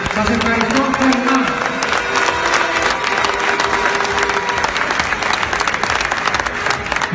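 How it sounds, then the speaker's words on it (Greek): A large audience applauds steadily at a bodybuilding competition, the Grand Prix Agathokleous 2017, with dense continuous clapping mixed with crowd noise throughout. "Κυρίες και κύριοι, το χειροκρότημα είναι δικό σας."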